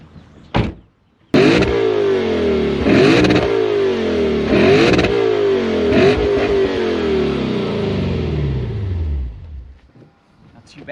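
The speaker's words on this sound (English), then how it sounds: "Revs all the way, no soft limiters here." A 2021 Lexus RC F Fuji Speedway Edition V8 revs hard several times in a row, each rise climbing high and falling back between blips, loud and close after a brief opening thump, fading to quiet at the end.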